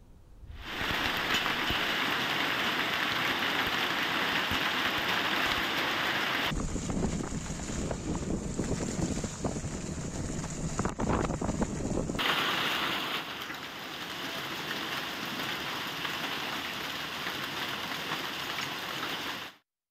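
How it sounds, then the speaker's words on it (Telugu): Hail and rain pour down across Hyderabad in a dense, unbroken roar that fills the whole stretch, with gusty wind noise swelling through the middle; no voices are heard. "వికారాబాద్, సంగారెడ్డి జిల్లాల వ్యాప్తంగా వడగండ్ల వర్షాలు కురుస్తున్నాయి."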